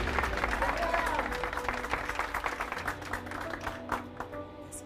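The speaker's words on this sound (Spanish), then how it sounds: "Un aplauso para la ingeniera Victoria Alcázar." Applause from a crowd, a dense patter of clapping that carries on throughout, with voices mixed in underneath.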